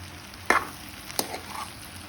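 Fish intestines and brinjal being stirred in a pan over medium gas, with two sharp scraping strokes standing out against a soft, steady sizzle.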